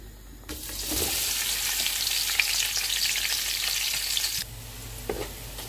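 Onions going into hot oil for mutton Sindhi biryani, bursting into a loud, dense sizzle after a brief quiet start, holding steady with light stirring, then dropping away near the end.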